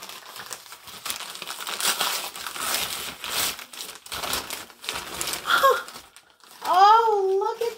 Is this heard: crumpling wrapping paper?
yes